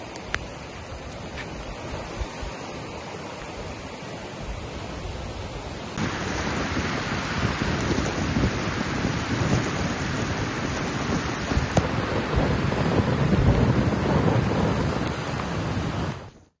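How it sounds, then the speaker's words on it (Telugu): Heavy monsoon rain pours during floods, a loud, continuous hissing downpour that grows noticeably heavier partway through and stays steady with no voices. "ఎడతెరిపి లేకుండా భారీ వర్షాలు కురుస్తున్నాయి"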